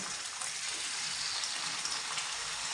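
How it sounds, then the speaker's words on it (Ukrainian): Chicken thigh sizzling in hot oil in a frying pan, a steady, close crackling hiss that holds at an even level throughout with no talking. "ставимо сковорідочку, наливаємо туди олії і будемо зараз смажити"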